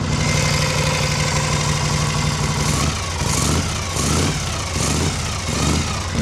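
A 1978 Harley-Davidson Shovelhead 1200cc chopper engine idles loud and close. It keeps up a steady, lumpy thumping rhythm with no voices over it.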